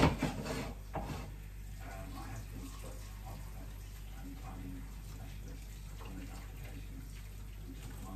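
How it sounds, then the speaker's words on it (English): Kettle water pours steadily into a pot, a continuous watery rush with a brief clatter at the start, no talking. "Pour extra water in right now."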